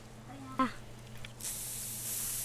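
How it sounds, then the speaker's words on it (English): A scent spray is used in theHunter, a hunting video game, heard as a steady broad hiss that starts partway through and continues to the end, preceded by a brief tonal blip amid low game ambience. "go ahead and scent spray"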